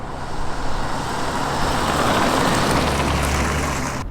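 A BMW 325i E30 from the 1980s revving hard at full throttle after a kickdown downshift, giving a loud, continuous engine roar heard from inside the car with broad road and wind noise.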